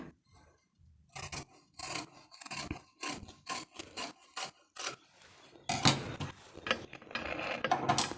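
Scissors cut through blouse cloth in a series of close, crisp snipping strokes in an uneven rhythm, then a longer run of faster rasping cuts, with no talk.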